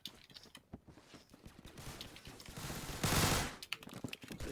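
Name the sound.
gunfire of new weapon in Phantom Forces video game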